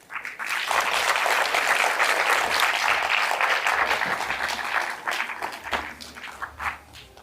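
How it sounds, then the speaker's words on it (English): A conference audience gives sustained applause welcoming the Executive Mayor of Ekurhuleni, dense clapping that rises quickly, stays loud and full, then thins into scattered claps near the end. "give a very warm round of applause to the Executive Mayor of the city of Ekurhuleni"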